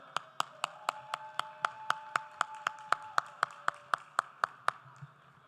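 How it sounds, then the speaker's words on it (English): Steady, evenly spaced handclaps ring out at a conference stage, about twenty sharp claps in a regular rhythm with a faint hum underneath, fading out near the end. "He's running, so keep clapping."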